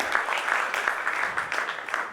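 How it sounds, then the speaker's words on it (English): Audience applause at a Procurement Leaders Summit 2022 panel: a dense, steady wash of many hands clapping, holding an even level for the whole stretch with no voices over it. "Ladies and gentlemen, let the applause continue."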